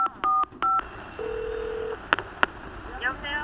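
A payphone keypad is dialed: two quick DTMF beeps, a longer single tone, then a couple of sharp clicks and a faint electronic chirp, close and clear with no talk.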